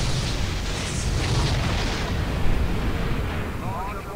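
A rocket explosion in the shooter game Return to Castle Wolfenstein rumbles as a dense, sustained low boom that swells and slowly decays, with a brief sharper burst midway.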